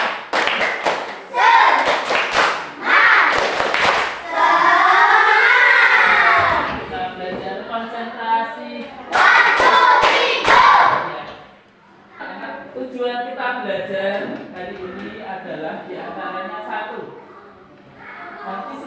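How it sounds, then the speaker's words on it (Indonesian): A primary school class performs a rhythmic 'tepuk semangat' clapping routine. Bursts of patterned hand claps alternate with group chanting and a teacher's voice, loud and close in a classroom. "Tepuk semangat."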